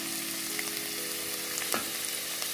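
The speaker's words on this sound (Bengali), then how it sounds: "মিনিট 2 ভেজে নিলাম গাজর, আলু আর মূলোগুলোকে।" Carrots, potatoes and radish fry in a pan, a steady close sizzle with faint stirring scrapes and no talk.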